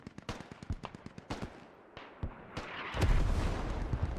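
Artillery fire and explosions in a military infantry video game, a rapid series of sharp booms and blasts, close and loud, building into a dense rumbling barrage.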